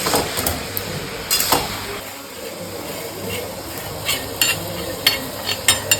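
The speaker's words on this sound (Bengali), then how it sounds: "দেখো জিরা ভাজা ভাজা হয়ে গেছে?" Cumin seeds frying in a pan, a low steady sizzle broken by sharp metallic taps and scrapes of stirring at irregular intervals.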